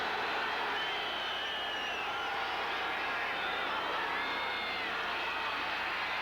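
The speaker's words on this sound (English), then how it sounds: "The crowd is calling for their defense." A large stadium crowd at a 1982 NFL game between the Rams and 49ers roars steadily for the defense, a dense sustained wash of cheering and shouting with no breaks.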